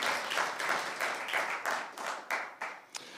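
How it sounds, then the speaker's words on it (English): A church congregation gives a round of applause, a scattered clapping of many hands swelling and fading in waves, moderately loud, ending in a few separate claps. "round of applause for her for putting up with me"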